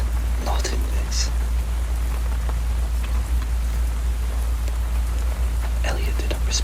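Steady rain falls through the night, a continuous hiss of drops with a few brighter patters, sometimes drumming on an umbrella; a soft whisper may sit faintly under it.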